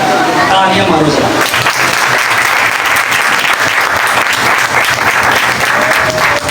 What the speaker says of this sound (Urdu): تالیاں مارو ذرا